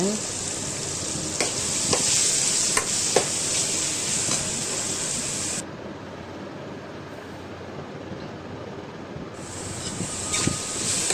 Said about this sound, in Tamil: போட்டுட்டு நல்லா கலரி விடுங்க.